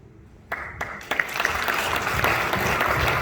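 An audience breaks into applause at a wake in Paris, starting with a few separate claps and swelling into steady, dense clapping that carries on to the end.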